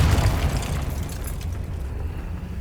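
A Confringo blasting spell explodes in the Hogwarts Legacy video game on PC, a loud, sustained boom with broad rumbling noise that slowly tails off.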